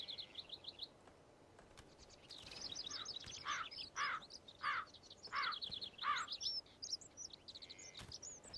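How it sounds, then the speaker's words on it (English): A bird calls from a distance in a Mount & Blade battle scene, with repeated chirping phrases over a quiet outdoor ambience and a faint insect hum. "What's a crow doing up this high?"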